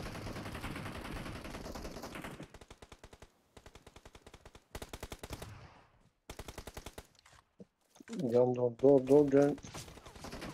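Automatic gunfire in the PUBG Mobile game, including a machine gun: rapid bursts of crisp shots in several runs, the first under a man's speech, followed by a short musical chime near the end.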